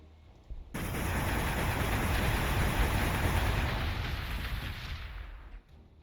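Units shoot at a city in the video game Warhammer 40,000: Gladius, making one dense, roaring barrage that starts abruptly, holds loud for about five seconds, then cuts off.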